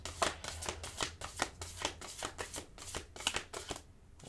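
A deck of oracle cards is shuffled during a card reading in a steady, continuous riffle of papery flutters and slaps, close and clear, with no voice over it.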